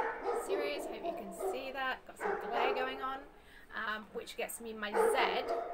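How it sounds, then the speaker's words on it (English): Dogs bark and yip in the background while someone talks over them, the yaps coming in short clusters that rise and fall under her voice. "Sorry about the dogs barking."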